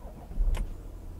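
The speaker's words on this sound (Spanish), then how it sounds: "Pisamos el freno y le daríamos a encender" Audi A8 being started with a push-button ignition after the brake is pressed, a brief low engine catch and whir that settles into a quiet idle, close by.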